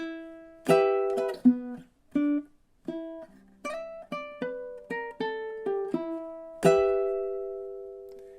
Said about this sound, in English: I'm going to play measures 11, 12 into 13 so that you can hear the end of the song.